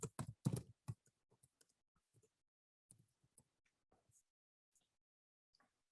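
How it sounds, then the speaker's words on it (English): Typing on a computer keyboard: a quick burst of loud key clicks, then scattered, softer taps and clicks with pauses between them, close and alone, with no voices. "I'm going to type in our description"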